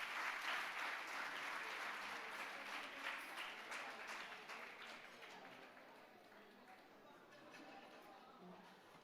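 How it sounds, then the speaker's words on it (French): Audience applause at an independence anniversary ceremony in Djibouti, sustained dense clapping from a large crowd heard at a distance, slowly fading over several seconds. "Vos applaudissements, s'il vous plaît."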